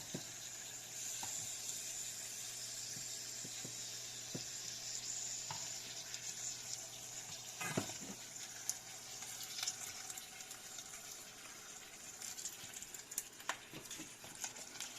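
Wontons deep frying in hot oil give a steady, even sizzle and crackle that runs throughout, with a few sharper pops and bubbling bursts near the middle and toward the end.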